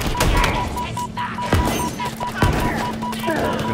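Gunfire while grappling in Halo Infinite: steady rapid-fire shots with a couple of sharper thuds, heard up close amid game noise with a voice talking over it.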